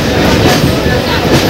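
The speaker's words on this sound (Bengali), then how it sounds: "বন্ধুরা আমাদের ট্রেন ছেড়ে দিয়েছে।" A passenger train pulling out of a station near Habra makes a loud, steady rumble with wheel clatter, heard from on board, with faint voices underneath.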